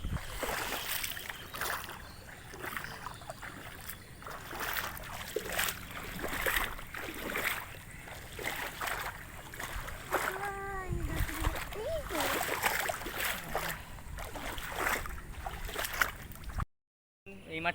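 Feet squelching and splashing through a rain-flooded, waterlogged rice paddy while fishing, giving repeated close wet slaps and sloshes at an uneven walking rhythm, with a voice talking over parts of it.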